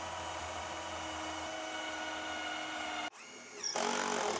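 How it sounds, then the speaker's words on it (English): A power driver runs continuously while screwing a loft ladder hatch kit, hinge end first through OSB, into ceiling joists. A steady close whine drones for about three seconds, then cuts out briefly before a second burst. "So right, I need to start screwing."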